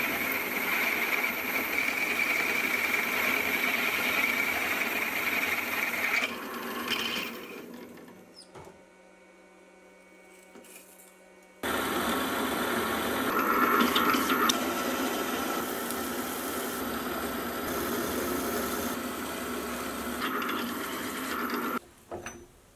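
A milling machine whirs and grinds steadily while boring and drilling metal, drops to a quiet hum midway, then resumes its loud continuous grinding.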